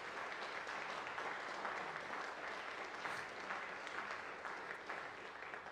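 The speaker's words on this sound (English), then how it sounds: "I think they deserve a special festive round of applause" An audience at a Christmas concert in a musical museum gives a steady round of applause, heard faintly at a distance as an even wash of many hands clapping with no break.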